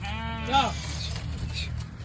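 Sheep bleat in an outdoor rural setting during a toddy palm fruit hunt, a short wavering call rising over steady background noise and nearby voices.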